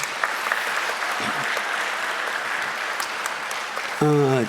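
A church congregation claps in encouragement, sustained crowd applause at moderate loudness, ending as a voice begins speaking over it.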